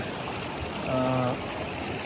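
Creek water in the Georgia wilderness flows steadily in sub-freezing conditions, a continuous close stream wash with a brief bubbling gurgle near the middle.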